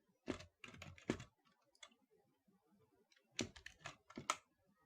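Someone typing on a computer keyboard in a quiet room, with two short bursts of rapid key clicks separated by a pause of near silence.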